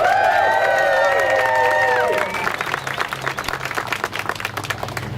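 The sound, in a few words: audience applause for Senator Joyce Woodhouse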